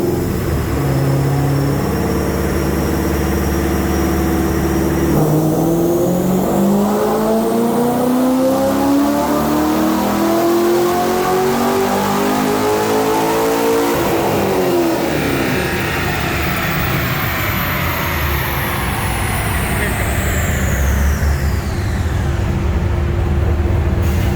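A Corvette Z06 on a dyno revs hard and loud throughout, engine note climbing steadily through a long sustained pull and rising again toward the end, with no pause and no one talking.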